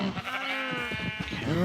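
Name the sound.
cows mooing, from the video game Minecraft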